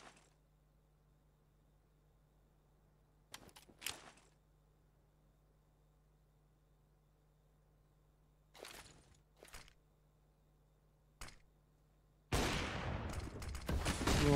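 AWP sniper rifle shots in Counter-Strike on the Dust2 map, sharp isolated cracks spaced seconds apart over a quiet background, with a dense burst of loud gunfire at the end.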